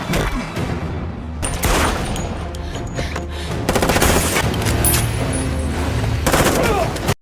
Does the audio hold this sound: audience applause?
no